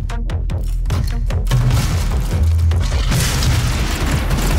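Grenade explosions in the video game Doom, a run of deep booms that merge into a loud, dense, rumbling roar lasting several seconds with no talk.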